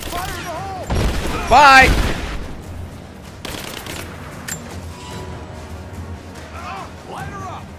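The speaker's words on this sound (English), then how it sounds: "Suppressing fire!" Bursts of suppressing gunfire in the video game Rise of the Tomb Raider, with a loud volley early on and scattered shots afterward, mixed with game voices and ambient noise.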